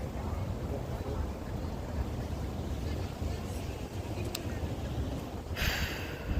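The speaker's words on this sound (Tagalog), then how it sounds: "Hangin, sobrang hangin." Strong wind buffets the microphone at an outdoor food festival at The Pearl, Doha, Qatar, in a steady, rough roar that runs the whole time, with a brief brighter gust of noise near the end.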